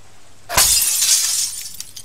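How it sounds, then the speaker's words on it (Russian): Glass windows smashed with a rifle butt in a video game: one sudden loud shattering crash, followed by about a second and a half of tinkling, scattering shards. "Вы можете разбить стекла прикладом"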